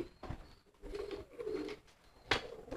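Pigeons coo in a few soft, throaty bursts close by during a session of pairing a mated couple using a cardboard box, with short quiet gaps between calls and no talking.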